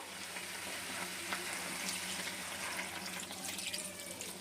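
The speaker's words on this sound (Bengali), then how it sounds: "এবার একটু জল দিয়ে দেবো" Water poured into a pan of simmering potato and jackfruit curry with prawns, a faint steady hiss and splashing sizzle running throughout, no talking.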